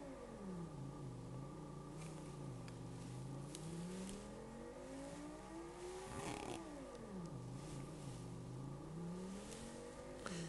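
A synthesized car engine in an Amiga racing video game revs up and down in long sweeping pitch rises and falls, a steady buzzy drone heard alone at moderate volume.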